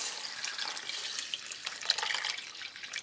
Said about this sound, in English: We're also gonna pour in about 1/4 cup of salsa. And then 3½ cups of beef broth.